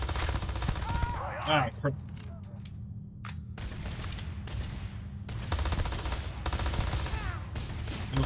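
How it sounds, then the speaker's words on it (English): Machine pistol fire in the Starfield sci-fi shooter comes in rapid bursts among other combat noise and shots, loud and up close, with a brief spoken exclamation over the gunfire. "I am literally shooting a machine pistol downrange"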